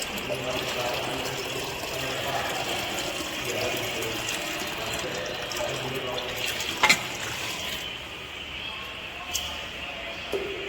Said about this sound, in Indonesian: lalu menghidupkan keran untuk memasukkan air ke dalam utilitas